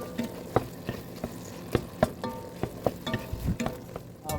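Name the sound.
ground sausage browning and sizzling in a pan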